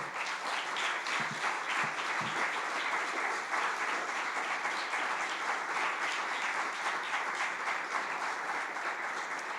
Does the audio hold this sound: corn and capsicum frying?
no